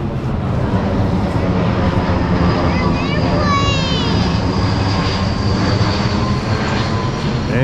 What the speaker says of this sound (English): And we get airplane landing footage